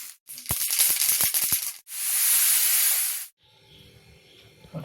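Curry leaves dropped into hot oil for sambar crackle and spit in loud, close bursts of popping hiss, then a long steady sizzle that cuts off and leaves only a faint simmer.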